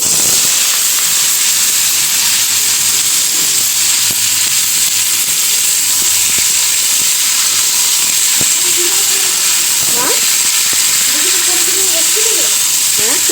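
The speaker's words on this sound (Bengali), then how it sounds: "এই যে কড়াইতে দিয়ে দিয়েছি সাদা তেল আর হচ্ছে কালো জিরা আর শুকনো লঙ্কা" White oil, nigella seeds and dried chillies sizzle in a wok, giving a loud, steady hiss throughout with a few faint clinks underneath.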